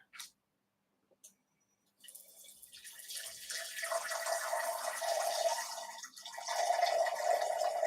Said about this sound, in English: take some of the water from the squeeze bottle, put it in this extra glass